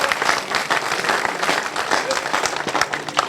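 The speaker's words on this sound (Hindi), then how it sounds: "तो ताली जोरदार बजा दीजिए।" A crowd gives dense, sustained applause for a school at a gathering. The steady clapping lasts throughout, with a voice faintly audible beneath it.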